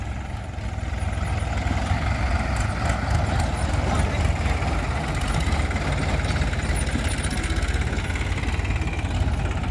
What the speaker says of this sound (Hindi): ये देखिए अर्जुन 555 भी आ रहा है